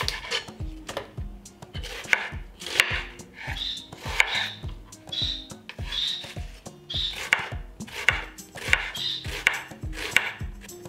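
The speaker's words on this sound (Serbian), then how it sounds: "Dok čekam da voda proključa, iseckat ću jedan luk." A knife chops through an onion on a board in steady, rhythmic strokes, each a crisp knock, close and clear with no one talking, about a dozen cuts at an even pace.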